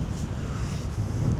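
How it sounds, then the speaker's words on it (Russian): Wind blowing outdoors at the Rudo residential complex in Belgrade, a steady low buffeting rumble across the microphone with broad hiss, no voices. "ветер тут есть все-таки"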